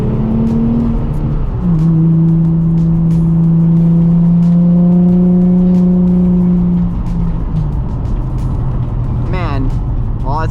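A Nissan 350Z accelerates hard on a dirt surface with its wheels breaking loose, the engine note climbing and holding loud and close before easing off near the end.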